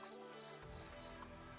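A cricket chirps four times in short, evenly spaced trills, quiet and high-pitched, with faint room noise around it.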